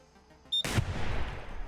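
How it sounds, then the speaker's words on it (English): A single loud burst from an automated turret in Receiver 2 cracks sharply, then rumbles and decays over a second, following a quiet lead-in with a faint high tone. "It's really hard to tell if you're hearing one turret or if you're hearing two."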